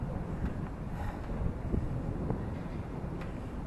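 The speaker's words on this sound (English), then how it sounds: "As soon as I step out, you may notice that the wind does pick up some." Wind blows at the Fort Point landing by a bridge, making a constant loud low rumble and buffeting across the microphone with no voices.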